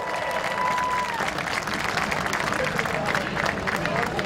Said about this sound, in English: Big round of applause for Nick Tedesco.